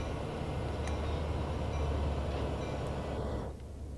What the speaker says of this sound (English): The train is bouncing.